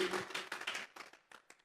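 A church congregation claps as an offering of praise, a burst of dense clapping that thins into scattered, fading claps over under two seconds.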